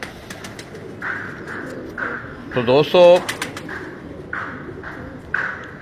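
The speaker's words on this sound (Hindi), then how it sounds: "ये खाकसिरा कबूतर है।" A Khaksira pigeon coos in soft low repeated calls among other birds at a gathering, with nearby voices talking over and between the calls.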